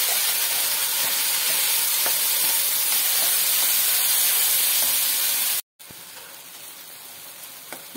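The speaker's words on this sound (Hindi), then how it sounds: "मसाले को अच्छी तरह से भूनने देंगे जब तक कि ऑयल ना छोड़ने लगे।" Ground masala spices with cumin and dried red chillies fry in hot oil for mushroom curry, a loud steady sizzle and hiss close by, broken by a brief silence before it resumes slightly quieter.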